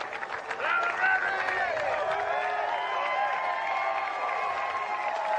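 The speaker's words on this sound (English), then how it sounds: "They're still applauding because they can finally make noise." Masters golf crowd applauding and cheering after Rory McIlroy's victory, a sustained roar of clapping and raised voices that swells early and then holds steady, with overlapping cheers throughout.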